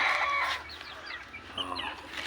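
Backyard chickens cluck and call in a busy, overlapping chorus, with sharp bird-like chirps standing out over a steady outdoor hum throughout.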